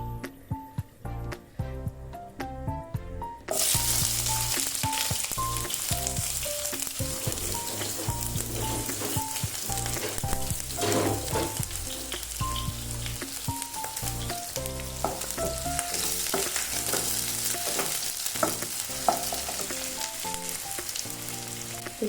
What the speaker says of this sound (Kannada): 3 ರಿಂದ 4 ಸ್ಪೂನ್ ಎಣ್ಣೆ ಹಾಕೊಂಡಿದ್ದೀನಿ. ಇವಾಗ ಈರುಳ್ಳಿ ಹಾಕ್ತಾ ಇದ್ದೀನಿ.